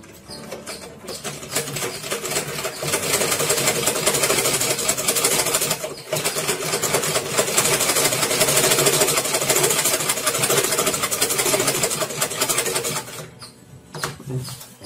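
A sewing machine runs steadily as it stitches fabric pieces together, a dense continuous mechanical whir that pauses briefly partway through, then resumes before winding down near the end.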